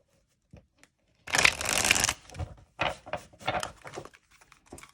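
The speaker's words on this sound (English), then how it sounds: "Side shuffling, quite easy." An Auset Egyptian Oracle Cards deck being side shuffled by hand: a few soft taps, then a dense riffling burst followed by several shorter bursts of sliding, slick cards, close and fairly quiet.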